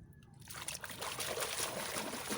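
Water running and splashing steadily while mud crabs are washed, a close, continuous trickling slosh with no voices.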